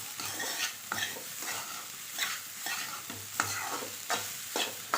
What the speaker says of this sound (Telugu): ఇదంతా మిక్స్ చేసుకుంటే మన ఫ్రైడ్ రైస్ ఒక 2 minutes, జస్ట్ ఒక 2 minutes ఉంచేసామనుకోండి హై ఫ్లేమ్లో